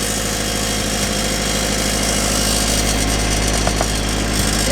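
A turbocharged Mazda Miata NB engine runs steadily with a deep, throbbing exhaust note, loud and close, with continuous low rumble and no talking over it.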